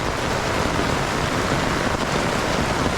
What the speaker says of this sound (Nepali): पानीको आवाजले चाहिँ के सुन्ने छैन थाहा छैन